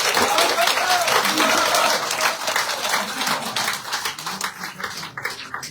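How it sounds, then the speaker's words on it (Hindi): Loud applause from an audience at a political gathering, dense sustained clapping that starts strong and gradually thins and fades toward the end. "जोरदार तालियों के साथ"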